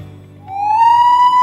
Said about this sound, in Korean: 화재 및 사고 발생 시 모든 근로자에게 사이렌을 울려